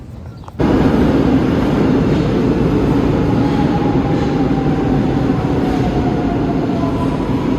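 A metro train rumbles along at speed after a sudden onset, a loud, steady roar with a faint high whine above it, continuous and close from inside the carriage.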